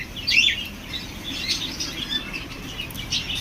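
Pigeons and doves at a bird market flap wings and chirp in quick bursts, with a sharp squawk early on and softer calls scattered through, fairly close.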